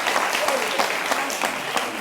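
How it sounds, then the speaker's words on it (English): Studio audience at a televised debate show on the economy and internet fraud applauding the debaters, a short burst of brisk clapping over a voice. "A big round of applause for our debaters."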